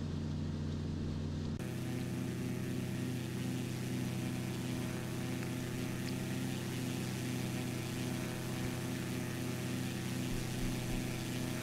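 Cessna 207 piston engine in a flight simulator, droning steadily at cruise with an even mid-pitched hum that holds unchanged for over ten seconds, no talking.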